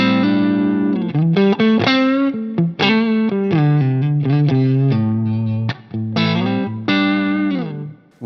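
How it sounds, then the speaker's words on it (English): Electric guitar played through a Line 6 Helix Native amp-modelling preset, the Interstate Z Ultimate, on a Vigier Expert Strat-style guitar: a loud, continuous distorted tone with sustained chords and quick single-note runs, close and clean of any talk. "I'm using my Line 6 Marketplace Interstate Z Ultimate preset with my brand new Vigier Expert Strat style guitar."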